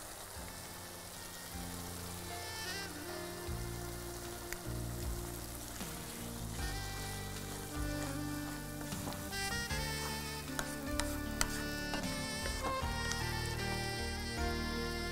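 Sauce bubbling and sizzling gently in a pan over a low flame, a steady soft crackle with scattered pops, faint and continuous with no talking.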